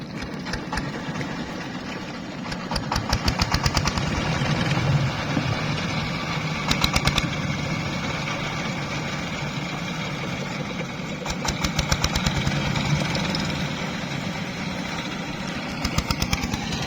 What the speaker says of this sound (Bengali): নৌকা ঘাটের থেকে নৌকা আসছে